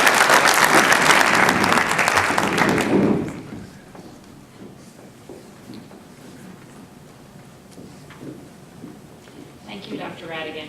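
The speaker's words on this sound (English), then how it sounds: "Another round of applause." Applause at a school board meeting, a burst of clapping from the room that fades out after about three seconds, leaving quiet room tone, faint shuffling and a voice near the end.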